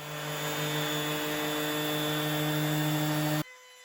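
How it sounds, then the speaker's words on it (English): A power sander whines steadily at close range for a few seconds, sanding old finish off hardwood pieces, a constant high-pitched drone that cuts off abruptly near the end. "I gave the pieces a good sanding to remove the old finish"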